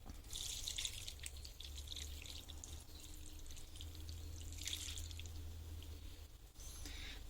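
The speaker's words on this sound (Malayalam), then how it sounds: "ഇനി നമുക്ക് നമ്മുടെ തേങ്ങാപ്പാല് ഫുള്ള് ഒഴിച്ചു കൊടുക്കാവേ." Coconut milk pours steadily into a pot for a sweet jackfruit dish, a faint, continuous liquid trickle and splash with no voices.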